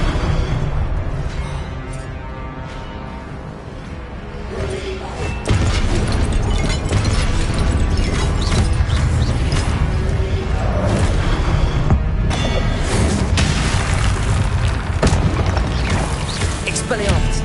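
Expelliarmus spell effects in Hogwarts Legacy make a dense, loud wash of booms, crashes and bursts. The mix runs almost without pause and grows heavier partway through.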